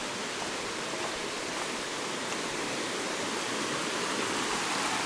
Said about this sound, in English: We got a little water stream over here with a bridge across it.